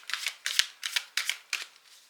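Oracle cards shuffled by hand in quick repeated bursts, about six brisk riffling swishes in an even rhythm, close and clear with no voices.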